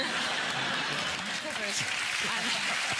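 Studio audience applause on a British chat show, a steady clapping wash with some chuckling, heard under someone talking over it.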